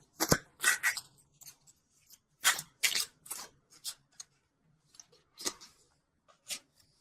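Tarot cards are shuffled and pulled in a quiet room, with sharp papery snaps and swishes in irregular bursts close by and no talking.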